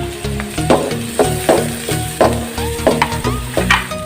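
White onion and chili fry in a pan, with a constant close sizzle broken by rhythmic clacking stirs, roughly a dozen utensil strikes at an uneven, steady pace.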